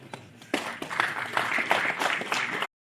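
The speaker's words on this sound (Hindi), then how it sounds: "एक बार जोरदार तालियों के साथ इस कार्यक्रम का शुभारंभ और आगाज" An audience at a one-day workshop event in a hall breaks into applause, a burst of mixed clapping that swells after a quiet start, holds for about two seconds, then stops abruptly.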